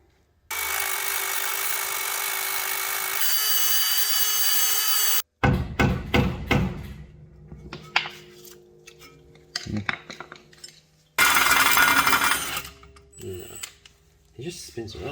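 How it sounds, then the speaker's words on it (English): Dremel rotary tool cutting off a part on a BMW E30, coming in bursts of harsh grinding whine between stretches of scraping, clanking and talk. "Dremel."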